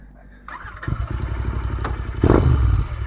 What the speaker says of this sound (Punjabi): ਇਹ ਵੀ ਬਹੁਤ ਬੰਬ ਹੈਗਾ ਮੋਟਰਸਾਈਕਲ